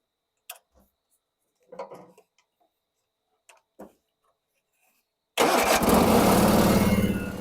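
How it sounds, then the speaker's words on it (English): A Kohler Twin Series 2 engine gives a few faint clicks and cranks, then catches and runs loud and steady for the last couple of seconds. "So this has the Kohler Twin Series 2 engine, and yeah, let's just hear it run."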